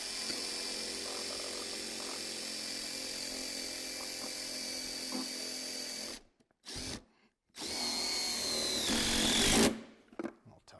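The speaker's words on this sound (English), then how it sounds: "Take one of those screws, chuck it in here, and goes right in here in this hole like this." A power drill drives a screw into a pergola purlin holder on a modern pergola kit, a loud steady whine running for about six seconds, then short bursts and a final rising spin before stopping.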